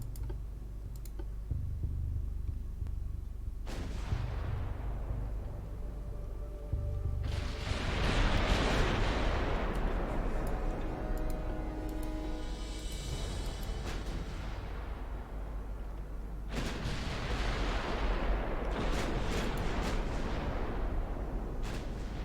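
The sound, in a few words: naval guns firing in the video game Ultimate Admiral Dreadnoughts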